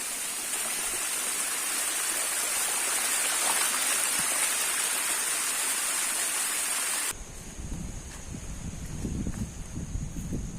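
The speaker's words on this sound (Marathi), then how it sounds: "पावसामुळे असे लहान लहान धरणे वाहताना आपल्याला दिसत आहेत" Small streams running after monsoon rain in misty hill country, a steady broadband rush of flowing water heard close and continuous, changing midway to a duller, rumbling flow.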